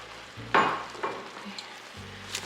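Spinach sizzling in a hot pan for chicken feta pasta, soft frying hiss with a few stirring scrapes and bursts, close and fairly quiet.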